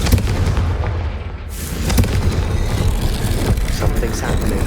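A Confringo fire spell blasts in Hogwarts Legacy, a loud booming burst followed by dense, crackling explosive rumble that carries on for several seconds.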